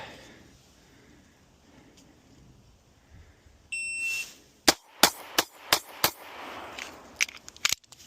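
Sig P365 pistol fired at a range, a rapid string of about seven sharp, loud shots in quick succession, preceded by a brief electronic beep and quiet ambience.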